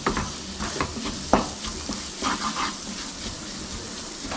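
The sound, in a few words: sautéing garlic masala in oil in a pan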